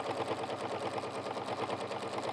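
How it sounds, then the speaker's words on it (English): Sewing machine stitching fabric for a one-piece go bag, a close, continuous mechanical hum with a fast, even pulsing rhythm, with no voices over it. "I'm just going to sew"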